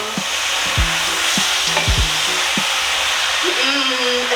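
A pork roast with leek is stirred in a pan, producing a continuous sizzle with several sharp scraping knocks of the utensil against the pan and a brief tonal squeak near the end.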